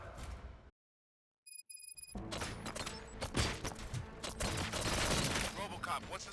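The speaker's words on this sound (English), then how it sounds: "Gunshots? What's going on?" Gunfire in the Robocop Rogue City video game erupts after a short silence, a dense, loud run of rapid shots with mechanical clatter continuing throughout, while a voice talks over it.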